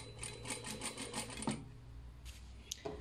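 Sewing machine stitching an American seam on a garment hem: quiet, quick rhythmic stitching bursts for about a second and a half, then a pause with a few faint clicks and handling noises.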